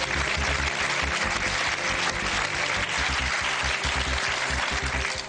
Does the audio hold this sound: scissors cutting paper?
no